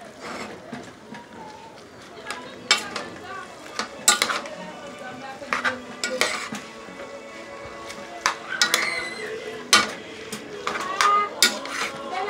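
Spaghetti with minced chicken being stirred and mixed in a pot, with scattered clanks and scrapes of a utensil against metal and a faint sizzle, irregular knocks throughout under occasional talk.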